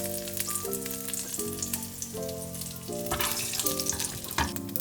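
A burger and bacon fry in a pan with a moderate, continuous crackling sizzle and occasional pops, and a faint tonal hum runs underneath.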